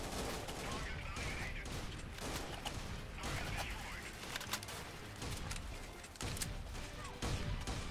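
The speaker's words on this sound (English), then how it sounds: "Hear that shotgun in the background there." Gunfire crackles and booms almost without pause in the video game Freeman: Guerrilla Warfare, with shotgun blasts in a dense, loud battle mix that also carries some voice-like sound.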